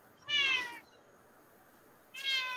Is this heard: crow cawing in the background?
no